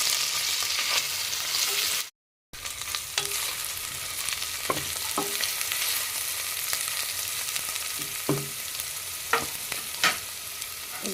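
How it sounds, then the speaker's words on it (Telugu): Bitter gourd pieces fry in oil under a lid in a covered pan, a steady bright sizzle running throughout with a few soft clicks and taps, briefly cut by a moment of silence. "ఇలా కాకరకాయ ముక్కలు 5 minutes పాటు ఇలా మూత పెట్టేసి ఫ్రై చేయాలి."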